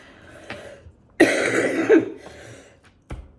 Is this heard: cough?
yes